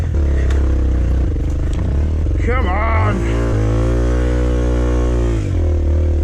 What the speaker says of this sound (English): Revving lots, going nowhere.